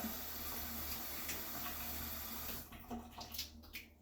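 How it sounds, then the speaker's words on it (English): Tap water runs steadily over a fresh lemon being rinsed under a kitchen faucet for hummus, a continuous close splashing that thins into irregular droplets and spatters near the end. "Rinse this off a little bit."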